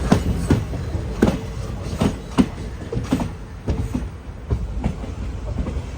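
Rajya Rani Express rolling along, heard from inside a sleeper class coach: loud rhythmic clickety-clack of wheels over rail joints in regular pairs over a constant rumbling hum.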